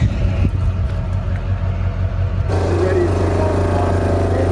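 Truck towing a trailer for a large boat: a steady, loud engine rumble that grows heavier and fuller partway through as the rig draws closer, with some talk underneath.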